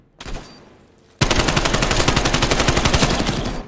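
Call of Duty: Cold War gunfire: a brief burst, then a sustained, rapid automatic stream of loud, close shots in steady rhythm lasting several seconds.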